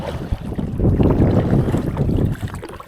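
Sudden gusts of wind buffet a kayak out fishing at sea, a rough, broadband rushing roar with microphone buffeting that swells loudly for a couple of seconds then eases, with water sloshing close by.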